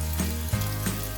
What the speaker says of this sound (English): add your minced garlic in